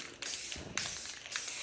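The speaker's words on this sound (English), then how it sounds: "So I'm just gonna like spray it going in an angle like that." Oil-based spray paint hisses from an aerosol can in three steady bursts, each a loud, close spray separated by brief gaps.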